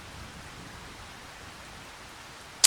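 Steady rain hisses evenly in the Farming Simulator video game, a soft constant wash of noise with a brief sharp click at the very end.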